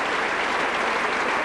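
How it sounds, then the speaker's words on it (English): Sympathetic applause from a large rugby league playoff crowd at St Helens versus Bradford, a steady dense wash of clapping filling the whole moment without pause. "Sympathetic applause from this large crowd here"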